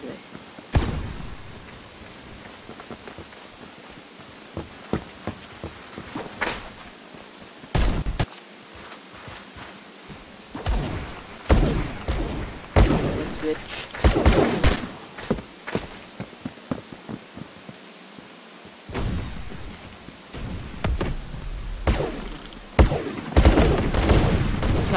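Gunfire in the Roblox shooter Phantom Forces, with scattered bursts of shots and rapid volleys that come in clusters between quieter stretches, some close and loud, others more distant.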